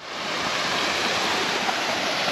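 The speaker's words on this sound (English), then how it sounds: "Nice little waterfall down here" A small waterfall on a hiking route in the Langdale Pikes, Lake District, pours in a steady, close, full rush of falling water that holds even throughout, with no voices.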